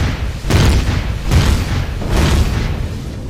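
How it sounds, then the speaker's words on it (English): Turret guns firing in Empyrion, a run of heavy booming blasts at roughly regular intervals, loud and close with no talking over them. "Yeah, that's a turret."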